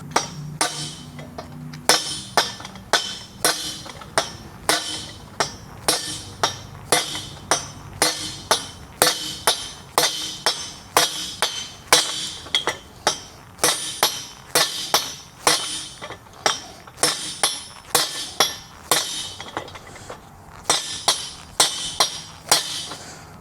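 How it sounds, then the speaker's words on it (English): Steady, rapid metallic hammer blows on a trailer spindle ring out one after another, sharp and close, with brief pauses between bursts of strikes. "So I'm going to grab a hammer and see if we can fracture this off."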